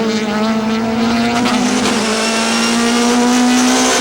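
Touring cars, among them a BP Nissan Primera, race at Killarney in 1998 with loud, sustained engine drone and a steady pitched note as they run nose to tail past the microphone.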